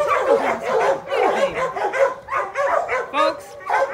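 A young pit bull mix dog barks and yips repeatedly in quick bursts while playing with a dog toy, close and loud, with whimpering sounds mixed in.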